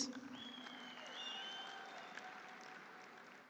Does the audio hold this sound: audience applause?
yes